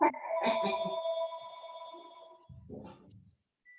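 A telephone rings with a tonal electronic trill that sustains and slowly fades, followed by a brief soft rustle and murmur near the end.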